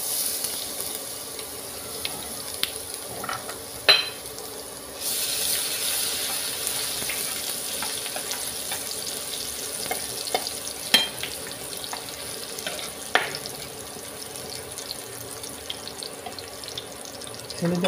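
Garlic dropped into hot cooking oil gives a low, steady sizzle up close, with scattered faint ticks and occasional louder clinks throughout, and no voices.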